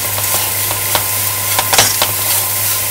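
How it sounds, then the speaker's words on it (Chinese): Seasoning of salt, sugar and pepper stir-fried in a wok for five-spice taro cake: a steady sizzle and hiss with a few scraping strokes of the spatula, moderately close, no talking. "糖、胡椒粉，去炒一炒佢咯喎，爆香佢咯"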